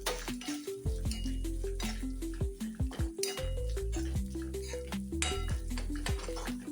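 Dates go into a hot pan while an Onam-style lime pickle is made, with repeated clattering and scraping of utensil against pan over a steady musical tone.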